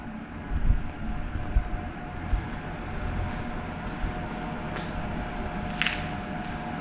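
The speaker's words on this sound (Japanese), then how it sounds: "めちゃくちゃ電車止まるんだよね。" A train hums and rumbles at the platform of unstaffed Higashi-Aoyama Station in Japan, with steady insect chirps pulsing over it and a brief metallic squeal near the end.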